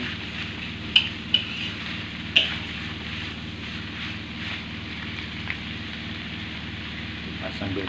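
Clams stir-fried in oil with fried shallots, bitter gourd and petai beans give off a steady, soft sizzle in a pan, with a few sharp clinks of a spatula near the start.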